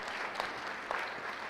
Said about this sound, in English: We should give them a huge round of applause for giving us money as well